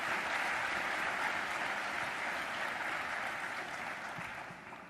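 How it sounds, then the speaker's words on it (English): An audience at Nintendo's 2007 E3 press conference applauds steadily, a dense wash of clapping that holds for several seconds and slowly tapers toward the end. "Let's give a big round of applause to our fitness trainers today."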